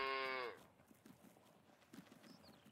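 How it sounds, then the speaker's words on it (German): A calf gives a short loud bleating moo at the start in the Farming Simulator 19 video game, followed by faint shuffling hoof sounds and quiet farm ambience. "Und hier haben wir auch schon wieder zwei neue Kälber."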